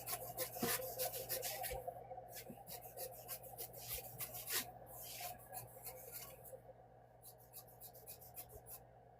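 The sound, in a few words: trimming quilt fabric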